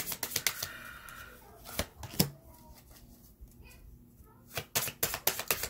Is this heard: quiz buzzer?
no